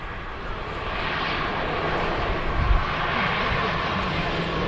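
An EasyJet Airbus A320 rolls out after touchdown at Manchester Airport, giving a steady, moderately distant roar of engines and rushing air with no break.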